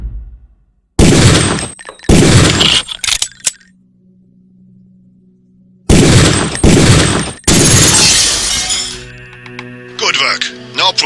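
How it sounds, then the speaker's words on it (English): Gunfire on a shooting range in the video game Deus Ex, loud sharp bursts in two groups separated by a quiet stretch, with a low voice coming through between and after the shots. "Release the second target and aim before shooting this time."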